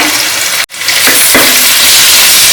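Shallots and sliced onions sautéing in a pan, a loud continuous sizzle close by, interrupted once by a short silence before resuming with a couple of stirring scrapes.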